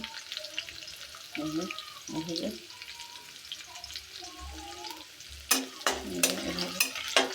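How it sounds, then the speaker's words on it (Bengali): Onion and dried red chili tempering sizzling in hot oil for a pumpkin and lentil dish, a steady close crackle with stirring, and sharper bursts of spatter and utensil clatter near the end. "পেঁয়াজ কচিটাও দিয়ে দিলাম এই দেখুন এই বাগারটা আমি এখন দিয়ে দিতেছি"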